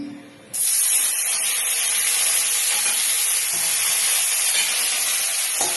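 Onion and garlic hit hot oil in a pan for an Indian egg curry, already fragrant with cumin and bay leaf, raising a loud, steady broadband sizzle that starts abruptly and holds unbroken, with faint stirring clinks near the end.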